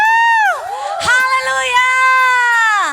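Church congregation shouting and cheering during a worship service, rising voices and whoops blending into a loud crowd roar, close and lively, with a strong sung or shouted voice riding over the top.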